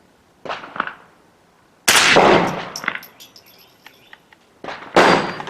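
Pistol shots fired outdoors in daylight from a handgun fitted with a Feyachi LF 58 green laser weapon light, with sharp loud reports in irregular bursts separated by quiet gaps and faint metallic clinks.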